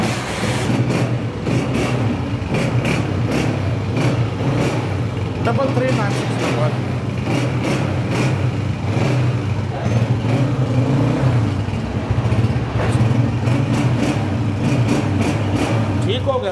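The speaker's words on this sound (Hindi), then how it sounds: "Honda 125 model 2021। Engine check," A 2021 Honda 125 motorcycle engine idles steadily and close by, a continuous low mechanical thrum lasting throughout, with someone talking over it.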